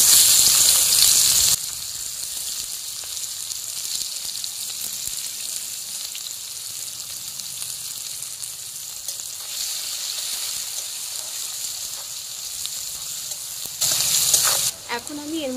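Chopped onions sizzle in a pan for a duck curry, a continuous hissing fry heard close and fairly loud, with a brighter burst of sizzle at the start and near the end.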